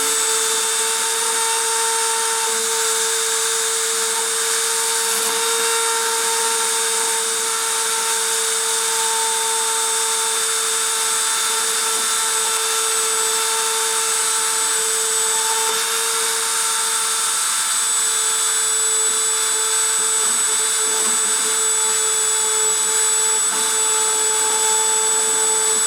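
During deposition the machine's spindle runs with a continuous loud whine and steady tonal hum over a hiss, close and unbroken throughout, with only faint shifts near the end.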